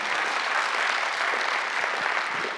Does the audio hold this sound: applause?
yes